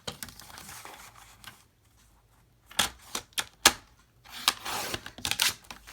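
A paper trimmer cuts gray granite cardstock for a gift card holder, giving a few quiet sliding strokes followed by a series of sharp clicks and snaps, close and isolated in a quiet room.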